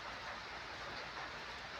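Steady rain pours down on a Saturday in the Philippines, a dense, even hiss of falling water that holds at the same level from start to finish, with no voices over it.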